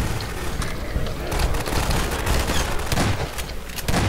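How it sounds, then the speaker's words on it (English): Dense bursts of rapid gunfire in Half-Life 2 crackle continuously, overlapping shots and booms with no voices, loud and close throughout. "Lots of gunfire too."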